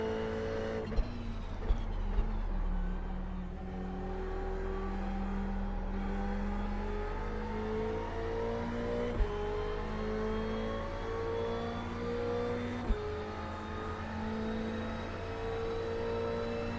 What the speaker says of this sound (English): Another set of faster cars coming up behind me.